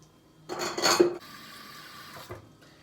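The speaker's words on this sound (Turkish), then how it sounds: "Şöyle alayım bir de tasla su alayım." A bowl is handled and water is taken into it at a kitchen sink while making börek, with a short burst of clattering and splashing close by, followed by quieter running water.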